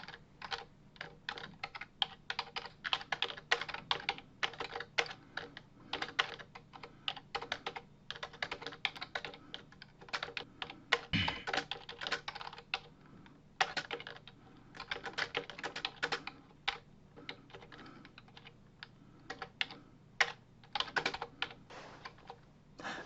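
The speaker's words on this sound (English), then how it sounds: "I will start talking again after I've gotten this thing typed in" Steady typing on a computer keyboard, rapid irregular key clicks close up, continuing in bursts with brief pauses and no talking.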